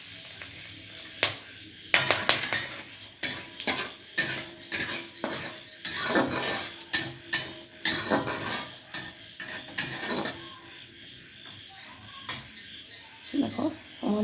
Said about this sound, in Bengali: দেখো আমার জিরেটা পুড়ে গেছে এবং গরম মশলাগুলো ফেটে গেছে